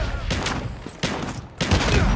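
Video game gunfire rings out in a rapid burst of overlapping shots, loud and close, with brief pauses between clusters over roughly two seconds.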